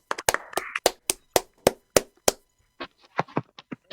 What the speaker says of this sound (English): can you unmute us all so we could have an audible round of applause?